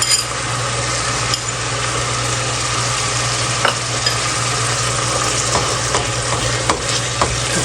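Chicken keema with ground green chillies and coriander fries steadily in a pan, a constant close sizzle broken by occasional stirring scrapes and clinks of a utensil, with no talking.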